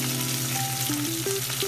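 Onions frying in oil for a vegetarian gongura curry, a steady close sizzle with faint tonal hum in the background and light stirring, no voices.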